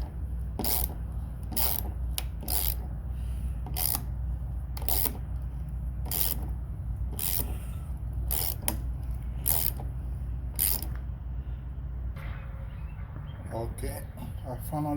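A wrench works 10mm bolts loose from the fuel filler neck of a Mitsubishi Eclipse, giving repeated sharp ratcheting clicks and creaks over a low background hum, and a person talks at times.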